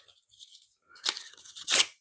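Paper being ripped by hand for a junk journal, a few short tearing bursts, quiet at first, then two louder close rips near the end.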